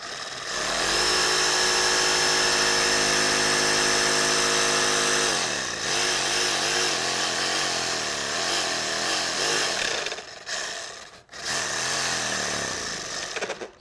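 A power tool drives a screw into a bobcat taxidermy mount. Its loud, steady motor whine holds for about five seconds, then wavers and stutters through uneven surges and brief stops as the screw bites, with no talk.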